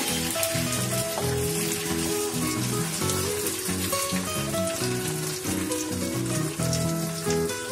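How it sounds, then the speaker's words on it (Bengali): Rice poured into a hot pan for vegetable pulao, giving a dense, steady sizzle like heavy rain that stays loud and continuous throughout, with faint musical tones underneath. "চালগুলো শুকিয়ে গেছে, এবার এর মধ্যে এক এক করে ঢেলে দেবো।"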